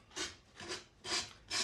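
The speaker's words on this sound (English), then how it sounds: "you can take either a blade or a sanding block and sand those edges off" A sanding block rubs decoupage edges in four short rasping strokes, each a bright scratchy burst with brief pauses between, close and fairly quiet with no talk.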